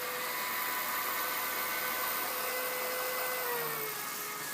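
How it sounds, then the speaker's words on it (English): A Tacx Fortius trainer's motor drives the rear bicycle wheel while the rider coasts, giving a steady, loud whirring drone with a faint tonal whine that holds unchanged throughout, no voices over it. "That's the motor keeping the wheel going for me in the back, so that's the coasting sensation I was talking about before."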